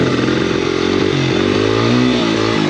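Small motorcycle engine revving steadily during wheelie practice, a continuous loud buzzing drone with rising and falling pitch and some clattering, close by with no talk.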